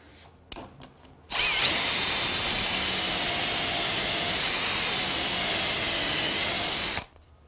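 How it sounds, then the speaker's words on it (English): A step drill bores screw pockets into wood through a clamped pocket jig, a loud, steady high-pitched whine running about six seconds after a few faint preliminary knocks, then cutting off abruptly. "The pockets for the screws that are going to hold this together are drilled using a jig that's clamped in place and a step drill."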